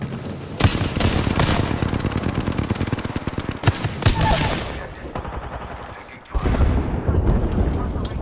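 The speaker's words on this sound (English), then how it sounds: "Firing for effect" Sustained automatic gunfire in a shooter video game, loud and dense bursts of rapid shots with heavy booming impacts, a short lull, then firing resumes; game voice chatter sits underneath.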